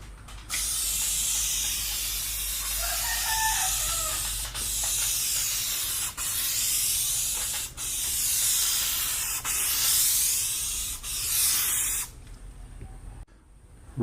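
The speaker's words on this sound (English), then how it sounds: "once you spray it on, it'll leave the surface extremely glossy" A gloss product sprayed onto the freshly sanded paint of a 1937 Pontiac: long, loud, close hissing bursts repeated in several passes with short gaps, ending abruptly.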